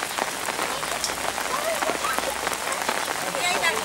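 Rain falls steadily outdoors near a children's playground where a baby sleeps, making a dense hiss of drops striking surfaces throughout, with a few faint voices in the background.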